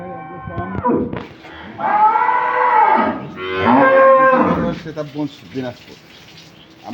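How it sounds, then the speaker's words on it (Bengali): Dairy cows at a cattle market in Dinajpur moo loudly and close by, two long drawn-out bellows after a short vocal sound, followed by quieter shuffling and background noise. "আমরা আজকে যে গরুগুলো দেখছি সেগুলো নিয়ে কথা বলবো"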